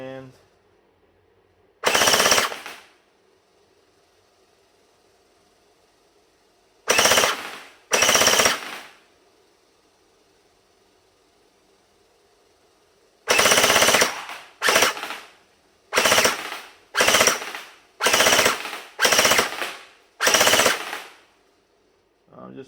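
X-Force M4A1 GT gel blaster fires through a chronograph in sharp bursts: one short burst, then two, then a rapid run of seven closely spaced loud volleys over a quiet background hum.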